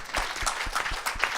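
An audience claps for a speaker at a parliamentary committees session, a brief burst of fairly sparse, distinct hand claps at moderate volume.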